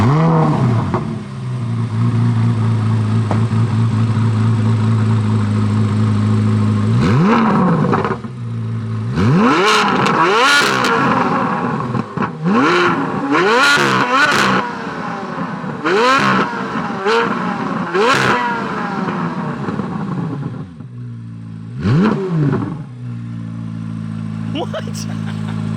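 A 2023 Corvette C8 Z06 with a naturally aspirated engine cranks and fires up, then settles into a steady idle. A string of sharp, high revving blips follows, climbing and falling close by, with people talking between them.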